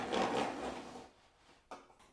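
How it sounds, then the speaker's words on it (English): A Skil or DeWALT power tool's gears mesh in a brief close burst of mechanical whirring that fades out, followed by a short sharp knock near the end. "You can hear the gears meshing."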